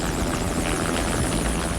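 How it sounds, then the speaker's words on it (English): A medevac 412 rescue helicopter taking off, its rotor and engine roaring steadily, close and loud, with a constant throbbing beat throughout. "no sooner is the chopper in the air than another mission is called"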